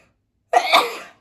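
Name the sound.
sneeze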